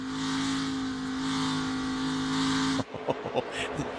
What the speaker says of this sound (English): Hear him messing with that throttle.